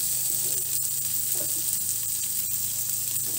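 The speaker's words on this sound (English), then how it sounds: "we're just gonna add a little bit of oil, and we will start sauteing our white onions" White onions sautéing in a little oil in a pan, a steady, close sizzle with faint stirring scrapes throughout and no talking.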